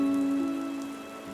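Rain falls in an animated story scene with a mango tree and a sparrow family, a steady patter under a sustained tonal background for the whole stretch, with no voices.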